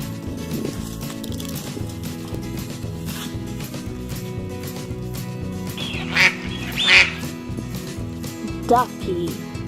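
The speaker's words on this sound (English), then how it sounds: "Ducky." A toy duck quacks in a few short, separate bursts late in the stretch, each brief and moderately loud over steady children's nursery rhyme music about farm animals.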